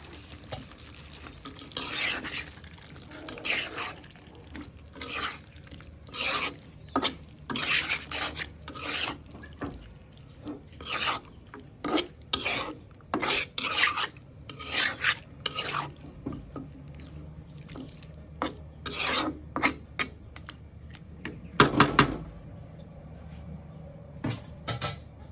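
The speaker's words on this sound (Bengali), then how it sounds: "এখন আমি এখানে মাংস দিয়ে আবার অনেকক্ষণ কষাবো।" Meat is stir-fried with spices in a pan, heard as repeated scraping and stirring strokes in irregular bursts over a low sizzle, close and moderately loud.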